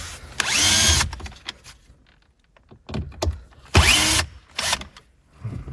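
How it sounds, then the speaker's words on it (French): Power screwdriver backing out Torx screws from the dashboard trim of a Peugeot 208, two loud whirring bursts of about a second each with shorter spins and small clicks and handling noises between them. "Vous démontez les deux vis qui sont là."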